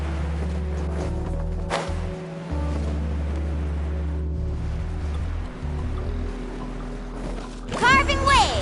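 Water waves rushing while surfing in the Genshin Impact video game, a steady close wash of surf with a low rumble, near a volcanic cave area, with a voice speaking over it.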